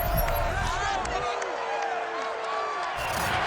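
A stadium crowd roars at Ford Field in Madden NFL 22 before a Cowboys vs Lions game, a steady cheering wash beneath a commentator talking.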